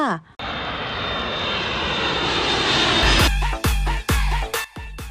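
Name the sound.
airliner engines as plane prepares for takeoff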